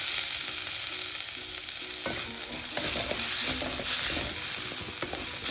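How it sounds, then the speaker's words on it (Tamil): Chopped tomato sautéing in a pan for mutton liver fry, with a steady close sizzle and the regular scrape and tap of a spatula stirring throughout. "நல்லா வதங்கணும்"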